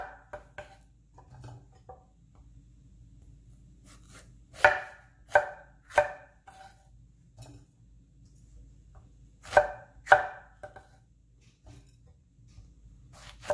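A knife cutting a big tomatillo and other vegetables into quarters for green salsa, crisp chops against a cutting board coming in irregular clusters with quiet gaps between, fairly close and alone.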